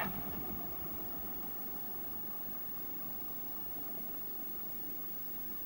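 A piston aircraft engine idles with the wind at its back before the mixture is cut off, a steady, low droning hum with even tone, fairly faint and continuous throughout.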